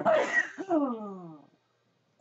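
A single loud sneeze bursts out close by, with a brief breathy tail trailing off into silence.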